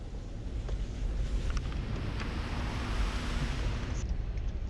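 A Land Rover Defender 90 P300 ploughs through North Carolina clay mud off-road, a loud, broad rushing roar of engine and churning that holds steady throughout, with no talk.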